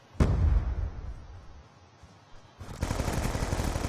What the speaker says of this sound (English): It's a damn double-barreled shotgun.